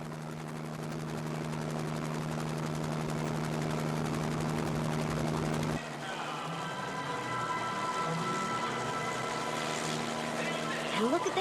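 Steady whirring drone of a helicopter hovering about 100 feet above a stunt performer, constant rotor hum and engine tone throughout with a slight shift partway, mid-distance, with no voices on top.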